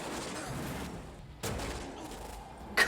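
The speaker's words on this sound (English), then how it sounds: "This is the most chaotic way to shoot at each other." Gunfire from a chaotic street shootout in the 1995 film Heat, a dense, muffled crackle of shots heard at a distance through a steady wash of noise, with no talking.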